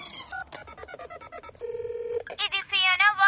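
A telephone is dialed in a cartoon: a quick run of keypad tones, then a longer steady tone, followed by a voice.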